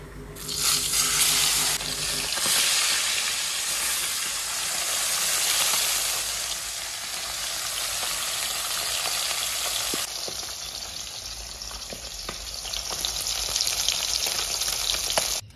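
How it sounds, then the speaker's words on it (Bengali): Bata fish dropped into hot oil in a wok, a loud burst of frying sizzle that settles into a steady crackling hiss, with faint clinks and stirring noises later on. "এদিকে আমার কড়াইয়ে তেলটা গরম হয়ে গেছে, এখন আমি ছেড়ে দিচ্ছি মাছগুলো"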